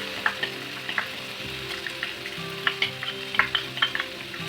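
Onion coconut paste spluttering in a pan for egg curry, with a constant sizzle broken by repeated sharp spatula taps and scrapes as it is mixed.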